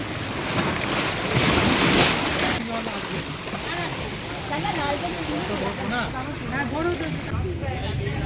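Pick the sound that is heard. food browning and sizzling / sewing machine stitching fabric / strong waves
strong waves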